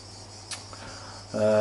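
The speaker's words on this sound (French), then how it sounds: "le bruit des cigales" Cicadas drone steadily outside a holiday villa window fitted with mosquito netting, a continuous high buzzing with a couple of faint clicks, then a louder tonal hum joins near the end.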